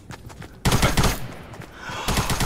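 Rapid automatic gunfire in a Roblox Fortnite-style shooter, a dense loud burst of shots rattling for over a second, then fainter shots continuing after a brief lull.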